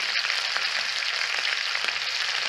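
Hot grease crackles and pops steadily while heart, liver and chopped gizzard fry on a box stove in a cabin, a close, dense sizzle with sharp spits scattered through it.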